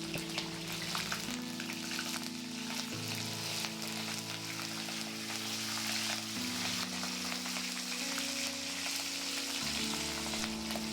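Green chillies and curry leaves hit hot oil with fried chana dal for masala upma, giving a steady, bright sizzle close by, laid under sustained background music.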